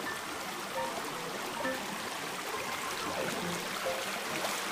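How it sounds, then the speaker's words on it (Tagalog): Gentle river current running over stones along a jungle riverbank, a steady soft burble and trickle of water that stays even and fairly close throughout with no voices. "Hindi naman malakas yung agos dito."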